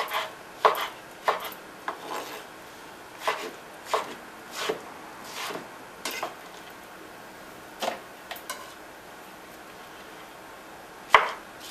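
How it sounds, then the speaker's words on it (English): A knife chops banana and mango into even chunks on a board, a run of sharp, near taps spaced irregularly with brief pauses between cuts and quiet handling noise underneath. "I'm cutting it, just chunking it, but kind of into uniform size chunks"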